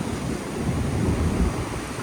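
A waterfall on the Rideau River, a steady broadband rush of falling water heard close and loud, unbroken for the whole short stretch with no voices.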